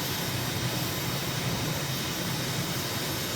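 A jet airliner's engines in Microsoft Flight Simulator roar as a loud, constant broadband rush with a low rumble, climbing out just after takeoff from Cephalonia, Greece.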